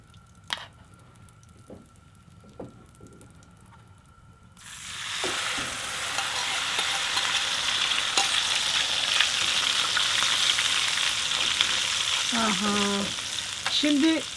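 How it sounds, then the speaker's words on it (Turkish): Butter frying and spattering in a pan in a highland village kitchen, a loud, dense crackle that bursts in after a few seconds of quiet with faint knocks and carries on steadily to the end. "Hava ıslak oldu ya yağ sıçradı."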